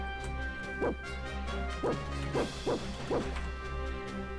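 Dog barks from the Final Fantasy 6 video game, five short sharp yaps spaced irregularly over a steady backdrop of game music.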